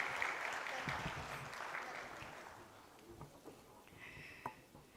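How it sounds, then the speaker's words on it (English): Conference attendees clap for dignitaries and delegates at a wildlife conservation event, a fairly quiet round of applause that thins out within a few seconds into scattered claps, with faint voices near the end. "let me hear a huge round of applause for all our dignitaries and delegates sitting over here"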